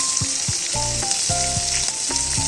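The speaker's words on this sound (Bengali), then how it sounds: "ফোড়নটা ভাজা ভাজা হয়ে গেছে, এখন দিয়ে দেবো পেঁয়াজ কুচি" Chopped onion tipped into hot oil with fried cumin tempering, for a bottle gourd and prawn ghonto, sizzles loudly and steadily while a spoon stirs and scrapes the pan in short repeated strokes.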